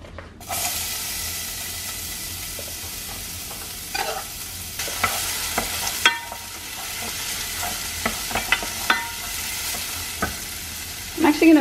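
Chopped onions sizzle in olive oil in a pan over medium-low heat, a steady close hiss with occasional stirring scrapes and clicks.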